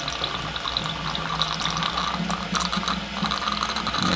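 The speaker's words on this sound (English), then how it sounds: "Can you add a little bit more water so it's more pressure going on the pump?" A water pump runs steadily with water added to it, giving off a continuous whirring, rattling mechanical noise mixed with splashing and trickling water for several seconds, with no talking.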